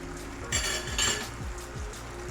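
Chicken frying in ghee with Schezwan sauce and ketchup, a close sizzle with rhythmic stirring and scraping strokes of a spatula against the pan.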